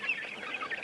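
Brief, faint clucking from chickens in a homemade plywood chicken coop, a few soft overlapping calls at a distance.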